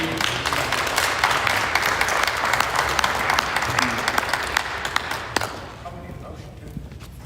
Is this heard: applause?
yes